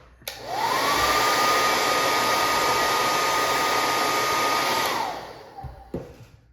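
A heat gun blows steadily for about five seconds, loud and close, as action figure parts are held on a screwdriver and warmed, then it cuts off, leaving a few faint clicks and handling noises.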